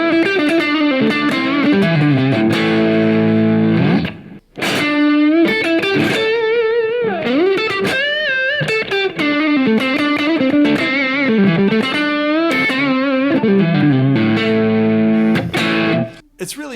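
A Stratocaster electric guitar plays through a home-built Port City amp, clean sustained chords and melodic single-note lines ringing out loudly and continuously, with one brief pause near the middle.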